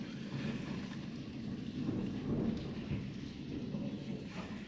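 Heavy rain pours steadily while low thunder rumbles through a lightning storm, a dense, constant wash of storm noise with no talking.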